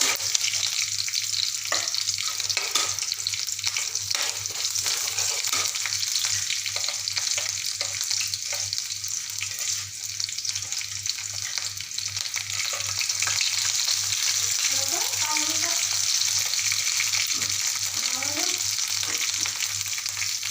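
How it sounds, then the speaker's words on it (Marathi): Onion frying in hot oil for a Marathi masala aloo curry, a steady close sizzle with occasional stirring scrapes and crackles, continuous and without talk. "तेल तापलेलं आहे त्यानंतर मी कांदा सोडणार आहे"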